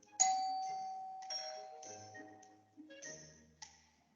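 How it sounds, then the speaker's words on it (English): A home doorbell rings with clear, bright chime tones struck several times in a row, each ring fading out before the next, close and fairly quiet with no voices over it. "No one makes cookies like Grandma, said Ma, as the doorbell rang."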